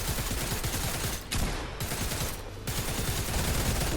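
Rapid bursts of a newly picked-up gun firing in a Spider-Man versus Predator video game, dense continuous automatic fire with two short lulls, loud and close throughout.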